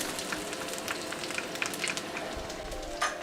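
Garlic and ginger hitting hot oil in a wok, a busy crackling sizzle with scattered pops and spits, fairly quiet and steady, no talking.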